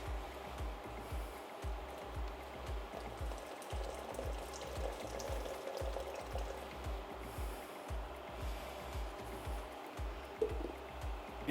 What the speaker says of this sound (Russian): Спустя 5 минут раствор нагрелся до кипения.